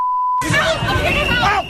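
A single steady censor beep tone cuts off abruptly as loud, shouted voices burst in and continue.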